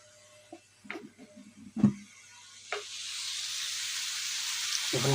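Tomatoes and onions for Peshawari beef, cooked without oil, are dropped into a pan with a few clanks, then a broad hissing sizzle starts and swells steadily, close and unbroken.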